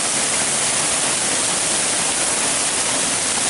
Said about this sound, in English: I don't know if you can hear me over this rain. It's really loud.